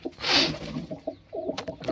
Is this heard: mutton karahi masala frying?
no